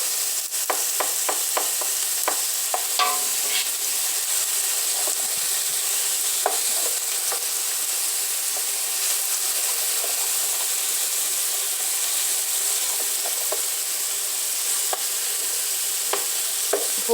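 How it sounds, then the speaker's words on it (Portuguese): Chopped onion sautéing in a pan as the base for feijoada, a steady close sizzle and hiss throughout with scattered spoon-stirring clicks and scrapes, no talking. "Vamos refogar aqui bem a cebola."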